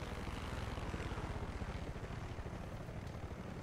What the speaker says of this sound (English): This helicopter's right overhead.